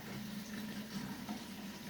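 Water spills continuously through the overflow chimney of a 600-litre aquarium, a steady, fairly quiet gurgling rush with a constant low hum beneath it and no talking.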